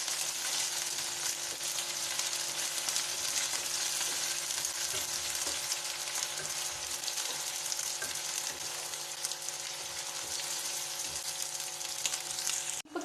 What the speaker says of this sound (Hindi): 1 मिनट तक इसको भूनेंगे।